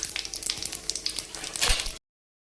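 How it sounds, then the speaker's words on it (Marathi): Cumin seeds and whole spices fry in hot oil with a close, crackling sizzle and small pops that swell briefly near the end before cutting off abruptly. "जिरं घातलं की आपण जे खडे मसाले बाजूला काढून ठेवले होते ते घालायचे आणि ते 2 मिनिटं परतून घ्यायचे"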